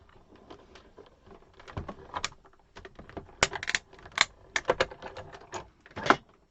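A cutting machine makes its first cut on a new cutting pad, giving a rapid, uneven series of sharp clicks and taps that grow louder toward the end, with no talking.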